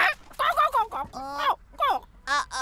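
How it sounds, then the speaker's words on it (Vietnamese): A cartoon chicken squawks angrily in a dubbed children's animation, loud bursts of clucking and honking calls mixed with shouting voices. "Đau, con gà chết tiệt này."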